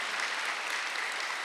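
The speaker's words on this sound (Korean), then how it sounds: "박수 세게 치셔요" A church congregation at a Sunday worship service claps together in a dense, even burst, moderately distant and without talk.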